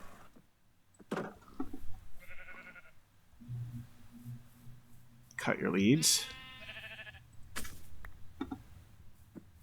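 Sheep bleat several times on a farm, fairly close, interleaved with people talking over a low background hum.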